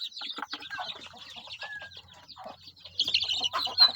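Native chicken chicks at booster age chirp and peep busily up close, a dense run of high calls with bits of wing flapping and clucking from nearby fowl.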